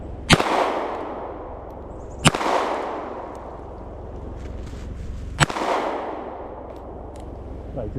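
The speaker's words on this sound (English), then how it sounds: "let me throw some lead down range and see how good I shoot the little 380" Three sharp, loud gunshots from a small .380 pistol fired at a target outdoors, spaced a few seconds apart, each with a booming echoing tail.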